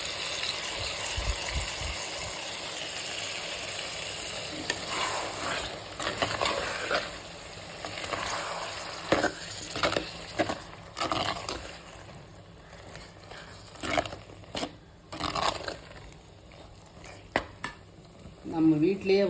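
Ground masala paste sizzles and fries in a pan for fish kuzhambu, with a spoon scraping and stirring in irregular bursts and soft clatters of utensils throughout.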